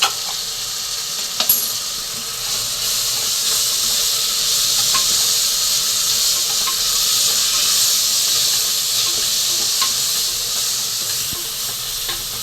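Egg fry biryani masala sautéing in a pan, giving a continuous bright sizzle and hiss with occasional light scrapes and clicks of stirring.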